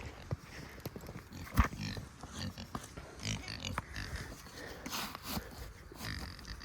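Pigs grunt and snuffle steadily at close range, with scattered clatters and shuffling mixed into the noisy farmyard din.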